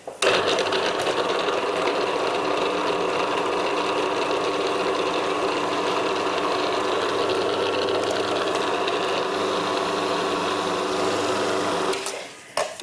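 A food processor blends butter into pastry in one steady, loud, whirring run lasting about twelve seconds, close by and with no talking, then stops abruptly.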